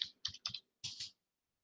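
A command being typed on a computer keyboard: a few quick clicky keystroke bursts in short clusters, then silence, close and quiet with no talk.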